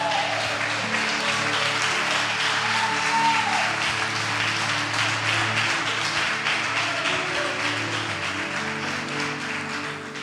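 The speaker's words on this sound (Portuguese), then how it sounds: "e as palmas para Jesus que Ele merece." A church congregation at a worship service applauds steadily and fairly loudly for about ten seconds, a dense wash of clapping with sustained tones of instruments underneath, fading slightly toward the end.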